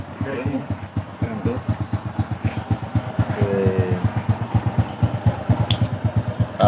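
A 1993 Honda Astrea Grand motorcycle with electric starter idles nearby, a smooth, even low putter with steady pulsing beats, while someone talks over it and faint background noises come and go.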